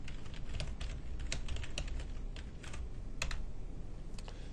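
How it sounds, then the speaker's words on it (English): Steady typing on a computer keyboard while an email subject line is entered, with continuous quick keystrokes in irregular bursts, close and fairly quiet, and no talking. "I will type test file for lesson."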